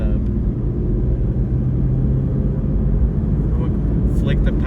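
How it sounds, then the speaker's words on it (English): A 6th-gen Chevrolet Camaro with a catless full exhaust idling, a steady, fairly quiet low rumble held throughout with a few faint clicks near the end, while a person talks over it. "For being catless, full exhaust, I think this thing's pretty damn quiet."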